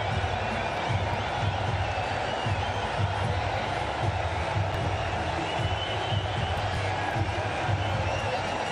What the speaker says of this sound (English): With that 6, it's brought the crowd to its feet.